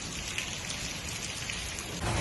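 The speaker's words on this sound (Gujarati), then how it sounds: "એટલો ધોધમાર વરસાદ ચાલુ છે" Heavy rain pours down in a dense, steady hiss, drumming on surfaces close by and growing slightly louder at the end.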